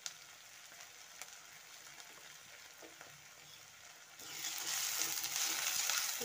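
Gobi Manchurian mixture frying in a pan: a quiet, steady sizzle with light stirring clicks, then a sudden louder hiss of fresh sizzling in the last two seconds, with no talk.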